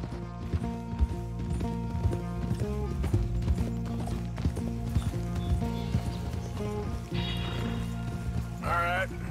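Horse hooves clip-clop in a steady, rhythmic walk within Red Dead Redemption 2 as a mare is ridden up to a stable, layered over a dense game soundscape with tonal, voice-like sounds and occasional mechanical clanks.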